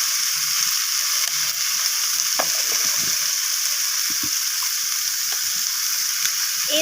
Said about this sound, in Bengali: সমস্ত কিছু মশলা আমি সবজির সাথে কষিয়ে নিচ্ছি এইভাবে